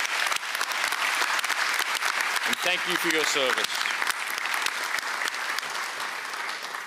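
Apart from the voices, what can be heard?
audience applause for retiring professors at commencement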